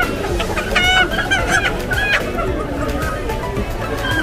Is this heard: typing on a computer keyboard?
no